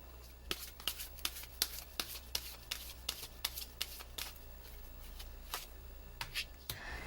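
Tarot cards being shuffled by hand, a run of crisp riffling bursts repeating at an irregular pace over a low steady hum, close and fairly quiet.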